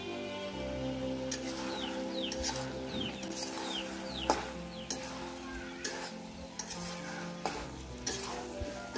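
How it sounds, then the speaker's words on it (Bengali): Mixed vegetables for a vegetarian curry are stirred and sautéed in a pan, a continuous close sizzle broken by repeated spoon clinks and scrapes, with faint bird chirps in the background. "যে পর্যন্ত সবজিগুলো গলে না যায় ওই পর্যন্ত ভালো করে সবজিগুলোকে কষাতে হবে।"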